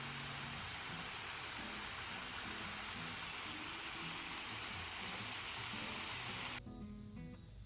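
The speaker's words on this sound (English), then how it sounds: "I'm watering them, so that's the noise you hear." A steady hiss of water sprays over sunflowers in a garden, a dense, even rush that carries on without pause until it cuts off just before the end.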